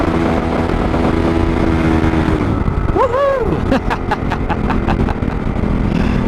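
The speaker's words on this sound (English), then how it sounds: "Let's lay some throttle to it." A motorcycle on Dunlop TrailMax Mission tires accelerates hard on wet asphalt at around 35 to 40 mph. The close engine note swells and climbs in pitch over steady wind and road rush.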